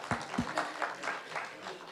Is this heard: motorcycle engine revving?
no